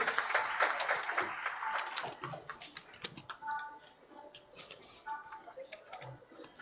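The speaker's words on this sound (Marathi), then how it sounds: "पुन्हा एकदा जोरदार टाळ्या त्यांच्यासाठी." Applause at a women's self-help group honour ceremony during an entrepreneurs' fair in Konkan, with broadband clapping across the whole stretch, strongest at first and then thinning into scattered claps.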